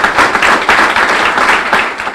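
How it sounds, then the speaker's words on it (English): Brief burst of audience clapping for the Premier of the Virgin Islands at a public event, dense and fairly loud with a few uneven peaks over two seconds, no talking. "I want you to give the Premier of the Virgin Islands a round of applause."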